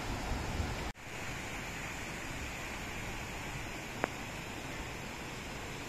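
A river at a campsite rushes steadily as a broad, even wash of flowing water, with one brief dropout early on and a faint high click midway.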